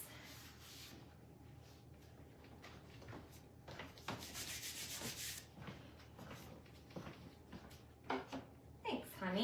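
An electric sander works a wooden vintage oval plaque frame, rasping in bursts with pauses and rubbing scrapes, while people talk nearby.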